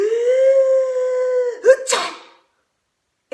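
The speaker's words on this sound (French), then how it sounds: "Éternuer." A person sneezes once at close range: a drawn-out rising vocal intake builds for over a second, then a sharp burst, followed by silence.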